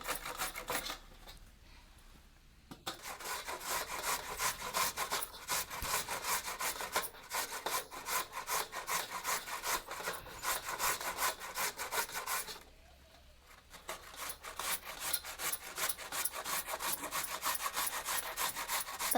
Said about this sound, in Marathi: आपण आता खिसून घ्यायचं भोपळ्यानं आणि त्याच्या पाठीमागटलं मग ही साल अशीच राहते ही पुढचं सगळं खिसून निघतं